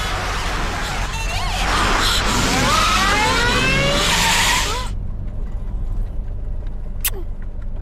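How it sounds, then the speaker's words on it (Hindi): During a movie car chase, tires squeal and skid in long, loud screeching sweeps over engine noise for about five seconds. Then it drops to a quiet background with one sharp high chirp. "उस गाड़ी का पीछा करो।"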